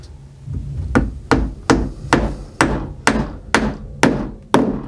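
A hammer drives a glued wooden dowel into a stripped screw hole with about ten sharp, evenly spaced blows, each loud and close, with no talk.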